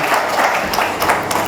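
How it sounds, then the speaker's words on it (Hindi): Audience applause at a university radio station's 21st anniversary event, a steady wash of clapping from a crowd filling the hall with no pauses or breaks. "आप सबकी भरपूर तालियों में मैं दावत देना चाहूँगा हमारे रेडियो इंचार्ज प्रोफेसर डॉक्टर अकरम सोमरो साहब को"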